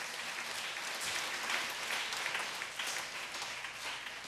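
A church congregation applauds during a sermon, a steady roomful of clapping hands holding at a moderate, even level for a few seconds with no voices over it.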